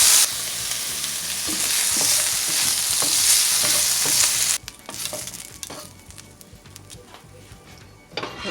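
Egg rolls fry in oil with a loud, steady broadband sizzle that cuts off sharply partway through, leaving quieter crackling and scattered pops from the pan.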